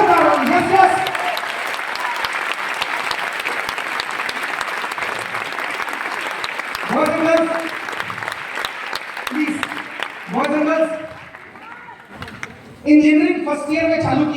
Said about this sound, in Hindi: मैं चाहूंगा एक बार अपनी जगह से मेरे दोनों अप्लाइयों के लिए जोरदार वाली तालियां होंगी, जोरदार वाली।